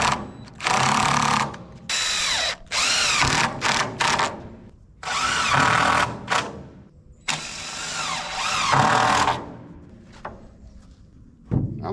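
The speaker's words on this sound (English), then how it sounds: "I'm going to put a screw through this into this 2x4." A power drill drives a screw through a board into a 2x4 while building dump trailer walls, in several loud whirring bursts of varying length separated by short pauses, with the motor pitch rising and falling.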